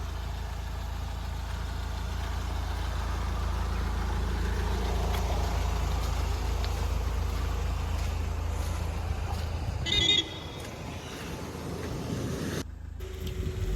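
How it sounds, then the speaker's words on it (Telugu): A Mahindra XUV500 W10 engine idles smoothly after decarbonization, giving a steady, close low rumble that holds even throughout, with a brief faint click near the end. "ఇంజన్ శబ్దం కూడా స్మూత్ అయింది"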